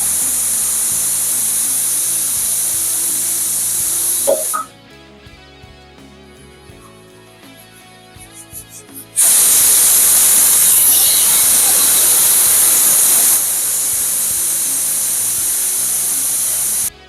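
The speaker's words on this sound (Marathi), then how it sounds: "कुकरला 3 शिट्या झाल्यावर मी कुकर बंद करून घेतलाय." A pressure cooker on a home kitchen stove vents steam in a loud, steady hiss, drops away for a few seconds, then bursts back into a strong rushing whistle that holds before cutting off.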